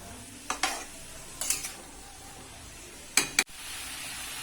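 Shredded cabbage sizzles lightly in a pan while a utensil stirs and scrapes it in a few short bursts, for vegetarian chow mein in a home kitchen.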